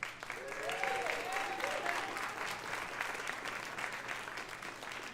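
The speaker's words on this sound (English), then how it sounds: "give yourselves a round of applause" Audience applause at a B Local community gathering of the B Corporation movement, sustained clapping from a crowd that swells and then slowly fades, with some faint voices mixed in.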